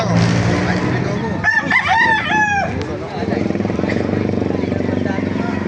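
Roosters crow at a chicken market in Baliuag, Bulacan, with several rising, wavering calls from nearby birds over a background of crowd chatter and engine hum. People talk throughout.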